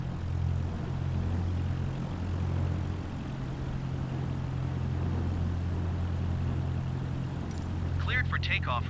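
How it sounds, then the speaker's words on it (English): Propeller aircraft in Microsoft Flight Simulator held at a steady droning engine hum with a low tonal buzz throughout, loud and constant, with a brief radio voice near the end. "Cleared for takeoff runway 28."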